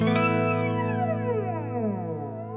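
Electric guitar through a Kemper Profiler modulation effect set to maximum feedback, a sustained distorted chord with deep, sweeping flanger-like whooshes rising and falling, loud and continuous with no talk.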